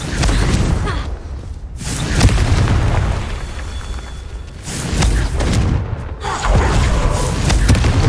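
Confringo spells explode in the video game Hogwarts Legacy, several heavy booming blasts spaced a few seconds apart over a dense rumbling background.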